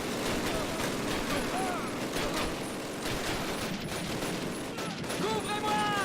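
Sustained machine gun fire and distant gunshots in Call of Duty Classic, a dense continuous rattle of bursts filling the scene with battle noise, a voice talking faintly beneath.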